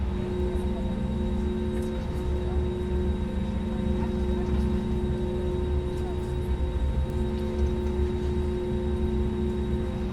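An airliner in Microsoft Flight Simulator taxis toward runway 05 with a steady jet engine whine and hum, constant tonal drones over a broad rumble, loud and unchanging throughout.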